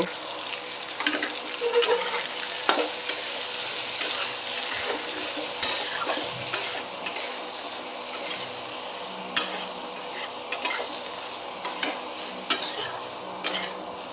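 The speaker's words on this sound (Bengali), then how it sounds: "এখন 1 চামচ লবণ আর হলুদ গুঁড়ো দিয়ে এগুলিকে হালকা করে ভেজে নেব।" Soaked cashews and almonds fry lightly in a pan with a spoon of salt and turmeric powder, giving a soft steady sizzle broken by repeated sharp scrapes and clicks of stirring, close up, with no talking.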